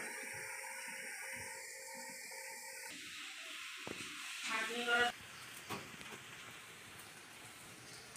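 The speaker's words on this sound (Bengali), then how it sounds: "এবার ইঁচড়টা বড়িয়া করে কষে নেব, ঢেকে ঢেকে কষিয়ে নেব।" Green jackfruit sautéing in a covered pan: a soft, continuous sizzle and crackle that grows brighter partway through, with a few clinks and a faint voice early on.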